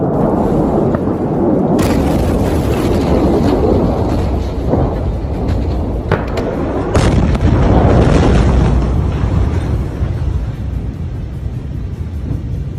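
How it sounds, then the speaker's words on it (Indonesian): Deep rumbling blasts roll out of a burning arms depot in Kalynivka, Ukraine, heavy low booms and crackling detonations layered over a continuous roar, with sharp bursts near two, six and seven seconds that are loud and close. "Dentuman dahsyat di gudang senjata terbesar Ukraina."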